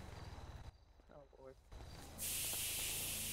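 In the game GTA, pepper spray fires as a loud, bright, steady hiss that cuts in suddenly and holds, following a stretch of rumbling in-game noise and a brief voice.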